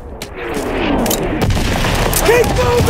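Artillery explosions and gunfire rage in a Call of Duty WWII battle, with dense booms and crackling shots packed closely over a continuous rumbling din while voices shout over the chaos.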